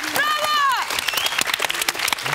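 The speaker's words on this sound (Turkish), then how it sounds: "Kaan Obüs, alkışlayın çocuklar." A children's audience in a television studio claps in quick, scattered bursts that grow sharper and more separate after a voice speaks briefly at the start.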